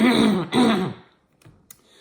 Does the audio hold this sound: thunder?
no